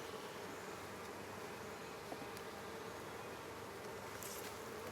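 Honey bees buzz in a steady, diffuse hum while nucleus colonies are moved into hive boxes, with a constant insect drone filling the clip and no talk.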